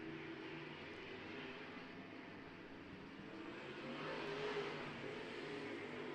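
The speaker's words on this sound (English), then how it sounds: "Listen as he comes down the front straightaway, the work on the throttle, keeping that car all kinds of hooked up." A pro stock race car engine roars steadily on the throttle down the front straightaway at a stock car feature, a loud continuous drone that swells slightly toward the end.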